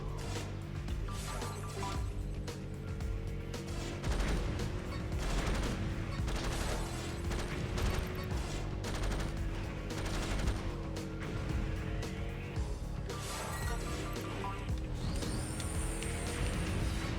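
Minigun fire in Jak X: Combat Racing, a rapid rattling barrage that runs almost nonstop over roaring engines and whining vehicle sounds, loud and close throughout.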